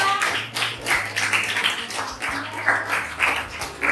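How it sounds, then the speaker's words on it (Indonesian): A small classroom group claps for the third student group presenting a project, the uneven bursts of hands rising and falling in short waves, fairly close and with no talk over them. "silakan tepuk tangan untuk kelompok 3"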